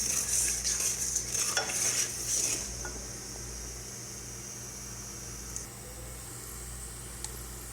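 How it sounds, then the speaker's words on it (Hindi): Whole spices stirred and frying in hot oil for a camel meat korma, a steady close sizzle with scraping strokes for the first few seconds, then settling into a quieter continuous hiss. "कुछ देर के लिए इन्हें भूनेंगे"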